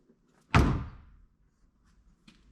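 A single firm slam as the door of a 2007 Jeep Wrangler, fitted with new door bushings, swings shut, close and solid with a short decaying rattle, followed by a faint tap.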